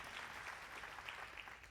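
An audience applauds at a Hindi poetry recital, a dense, continuous patter of clapping that sounds faint and somewhat distant throughout.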